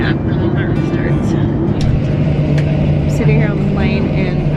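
Steady low rumble of an airliner cabin at Phoenix airport, an even engine and ventilation drone filling the space with faint scattered chirps and clinks on top.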